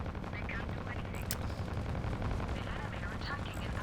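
Massive explosions rip across a spaceship in the space combat game Fractured Space, heard as a dense, continuous roar of gunfire-like blasts and bangs with no letup, a voice faintly mixed underneath.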